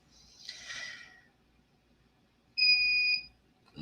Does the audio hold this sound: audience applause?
no